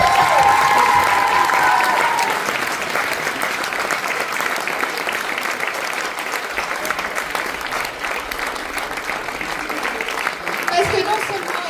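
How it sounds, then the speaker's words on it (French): Sustained audience applause fills a live show in France as a voice-over performer is called to the stage, dense and steady throughout with a brief whistle or cheer near the start. "Alors applaudissez maintenant Madame Lolita Lequeux."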